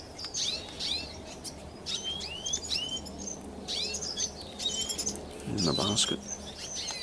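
Red siskins chirp and tweet repeatedly in an aviary, with bright overlapping calls close by, while a person speaks briefly partway through.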